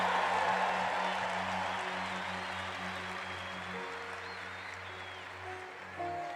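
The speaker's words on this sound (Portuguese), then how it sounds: "Vamos dar uma salva de palmas para a comunidade Mundo Novo, que preparou este evento para nós" Crowd at a Catholic preaching event clapping for a community, a faint, steady spread of applause over sustained low music tones, slowly tapering.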